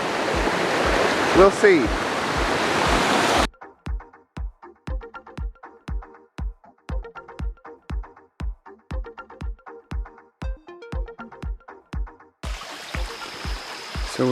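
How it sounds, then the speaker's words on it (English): A babbling brook at a creek crossing on a wildlands hiking trail rushes loudly at first, then fades under brief talk, with repeated close footsteps or taps before the water noise returns. "we get to enjoy this wonderful babbling brook"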